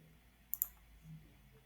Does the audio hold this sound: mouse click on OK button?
yes